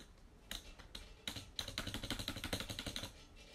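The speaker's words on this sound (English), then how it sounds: "Yeah, you definitely hear the keyboard" Clicky computer keyboard typing while a mining video game is played. A few separate key presses come first, then a fast steady burst of keystrokes that sounds close and fairly quiet, with no talking.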